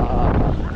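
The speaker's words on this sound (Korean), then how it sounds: "지금 최고의 바람이 불고 있습니다" Strong wind buffets the microphone on the climb to Daecheongbong peak on Seoraksan, a loud, close, continuous roaring rumble with gusty rustle throughout.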